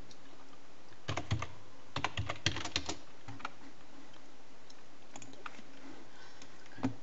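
Keys clatter on a computer keyboard in short close bursts of rapid keystrokes separated by pauses, with a few isolated taps afterward, as a name is typed on a PC.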